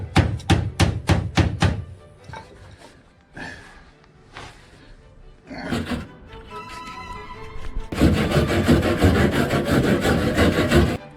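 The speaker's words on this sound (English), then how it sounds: "scrape this front thing here before painting it, so just rub all this" Rust is rubbed and scraped off the front spoiler of an MGB GT car, with a series of sharp rhythmic strokes at first, scattered scrapes, then a steady loud abrasive rubbing near the end.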